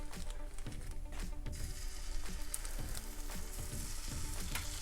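Meatballs fry in a hot pan without added fat, a loud, close, continuous sizzle broken by crackling pops as they are placed, with no voices.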